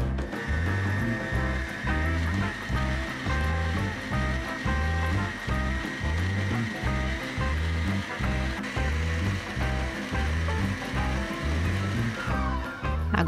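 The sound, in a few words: Oster Perform 600W stand mixer kneading bread dough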